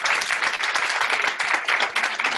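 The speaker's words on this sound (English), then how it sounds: "They're clapping." Audience at a mindset talk clapping, a dense, continuous wash of applause from a large crowd, filling the moment without speech.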